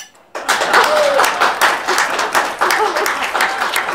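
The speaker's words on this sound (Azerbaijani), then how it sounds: "Bu istirahət elədiyiniz restoranın sahibinin xatirinə gürültülü bir alqış eləyə bilərsinizmi?" Loud, dense applause from a restaurant audience for the owner. It starts abruptly after a brief pause and then keeps up continuously.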